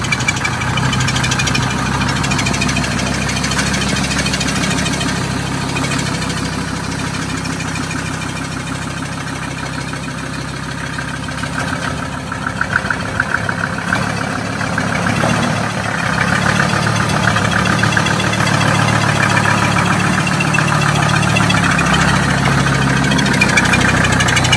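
A Jeep Wrangler fitted with a Mercedes diesel engine runs loud and close, its knocking diesel clatter steady and even with slight surges in the rumble, no voices over it.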